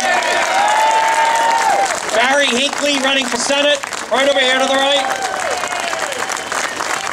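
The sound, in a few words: crowd applause for candidates at rally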